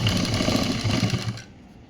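A sewing machine stitching a school uniform shirt, a close, loud, rapid mechanical whir that runs steadily for over a second and then stops.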